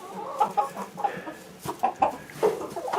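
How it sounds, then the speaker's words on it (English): Chickens in a cold-weather coop cluck in short, uneven bursts close by, several birds overlapping with soft chatter and occasional sharper squawks. "We got chickens up here."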